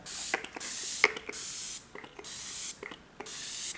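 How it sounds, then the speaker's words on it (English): A few quick hissing bursts from an NYX Bare With Me makeup setting spray, fine mist puffs in a rapid irregular series, close and fairly soft. "So I'm going to give some good sprays, and this has a wonderful fine mist."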